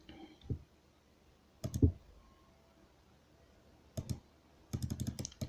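Computer mouse clicks at a desk during Unity editor setup, sharp and close, arriving as isolated single clicks and then a quick cluster of several clicks near the end.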